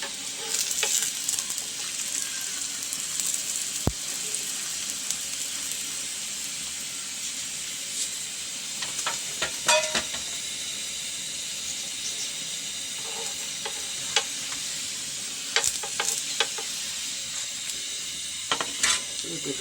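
Bathua roti frying in ghee on a hot griddle, a steady close sizzle and hiss carrying through the whole stretch, broken by scattered sharp crackles and a few scraping touches of a spatula.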